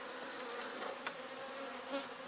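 A colony of honeybees drones in a continuous buzz during a hive inspection in early summer, with a few individual bees whining past close by.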